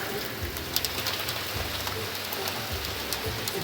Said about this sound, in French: mais il pleut toujours assez fort